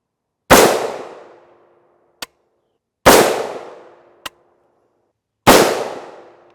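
Three loud, close rifle shots of M855A1 fired from a 16-inch barrel into a lightweight armor plate, evenly spaced a few seconds apart, each with a sharp crack and a decaying tail, and a faint metallic ping after the first two.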